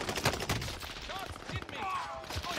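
Gunfire in Call of Duty Vanguard Warzone on the Fortune's Keep map, rapid shots crackling steadily through a short stretch, with a voice briefly heard alongside.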